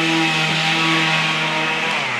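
Power sander running with its pad spinning freely under light pressure, a close, steady whirring hum with no pauses.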